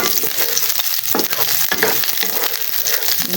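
Shrimp paste (ginisang alamang) sautéing in oil in a pan, a steady close sizzle with intermittent scraping and stirring strokes throughout, no voices.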